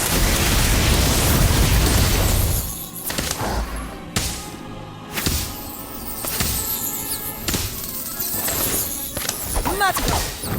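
Confringo blasting spell in the Harry Potter Magic Awakened video game, a series of loud booming bursts and crashes layered over dense game music and effects.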